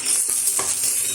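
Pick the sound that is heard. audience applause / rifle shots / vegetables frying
vegetables frying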